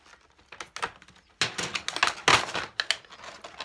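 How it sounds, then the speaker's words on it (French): Crinkling, tearing plastic wrap and cardboard rustling as Japanese toy packages are opened by hand, in short irregular bursts, close and fairly quiet. "il faut ouvrir les paquets"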